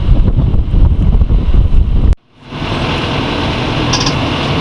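Strong wind buffets the microphone aboard an Allied 36 ketch sailboat in Southwest Harbor, a loud roaring rush that cuts out briefly and then returns as a steady gusty hiss.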